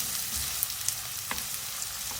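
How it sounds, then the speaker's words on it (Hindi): Chopped onion softening in a pan for a black chana chaat, a steady even sizzle close by with a few light taps from stirring. "प्याज सॉफ्ट हो गई। 3 से 4 मिनट लगे हैं इसको फ्राई होने में।"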